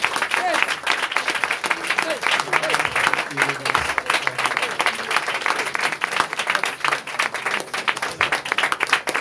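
A church congregation applauds with sustained, dense clapping from a large crowd during a French-language worship service, steady throughout with voices mixed in.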